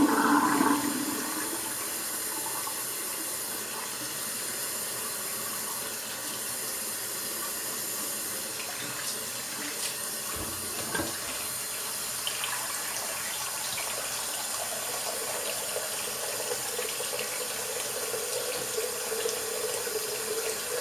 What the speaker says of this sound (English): what I like to do between passes is just drain my water, rinse off a little bit